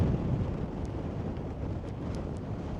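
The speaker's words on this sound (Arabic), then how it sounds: "الريح مجهد اخوتي ولكن غادي تعيشوا معاه" Strong wind buffeting the microphone on a hard desert road in Mauritania, a loud continuous low roar and rumble that holds steady the whole time with no voices.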